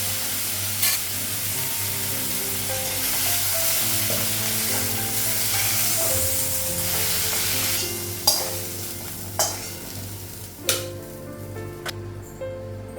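Fish and eggplant frying in oil in a home kitchen, a loud, continuous sizzle with a few sharp clinks and scrapes of utensils near the end.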